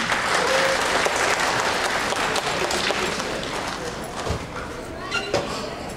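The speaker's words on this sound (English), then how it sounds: "Please give a round of applause to Lata Nani." An audience applauding at a Kumara Purnima inauguration event, with dense clapping that is loud at first and then thins and fades over several seconds, with a few scattered voices in the crowd.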